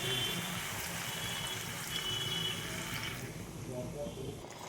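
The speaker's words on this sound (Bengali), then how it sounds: "কষানো হয়ে গেছে, এবার একটু জল দিয়ে দেবো।" Water pours into a pan of jackfruit and prawn curry with a close, steady gushing splash that tapers off toward the end, fairly quiet overall.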